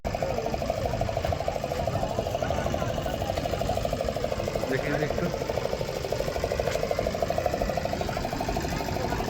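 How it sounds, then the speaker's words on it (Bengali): A boat's engine chugs steadily as the boat pulls away from the shore toward the sandbar at Talsari beach, a continuous mid-pitched rumble under voices. "এইখানে যে এই বোট ছাড়ছে,"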